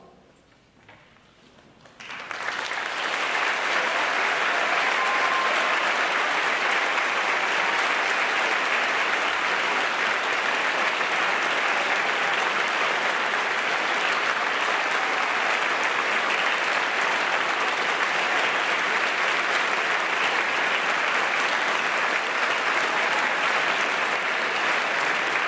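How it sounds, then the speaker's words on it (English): At a high school Veterans Day assembly, a large audience gives standing veterans a round of applause: after a brief quiet start, loud, sustained clapping from many hands fills the hall without letting up. "let us give you a round of applause"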